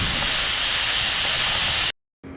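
A steam-powered lawn mower hisses loudly and steadily at close range, a dense continuous rush that cuts off abruptly, then returns more faintly with a low hum.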